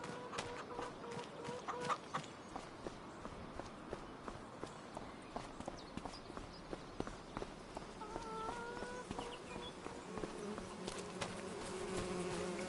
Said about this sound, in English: It is working. I hear bees.